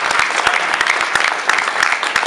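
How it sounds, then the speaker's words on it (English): An audience gives a hearty round of applause, close and loud, with many distinct hand claps rattling in a fast, uneven patter that stays strong throughout. "So I think he deserves a real round of applause for it."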